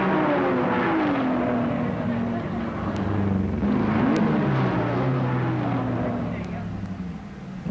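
A Triumph racing car engine at Le Mans, spurting oil smoke from a failing crankshaft oil seal, drones steadily with shifting pitch, loud and continuous, partly masked by someone talking over it.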